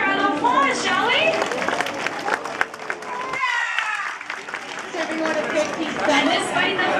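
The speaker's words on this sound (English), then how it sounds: "Let's give them all a round of applause, shall we?" An aquarium audience applauds the animals and trainers after a beluga show, a moderate, steady clapping under a presenter's voice that drops out briefly midway before the talk resumes.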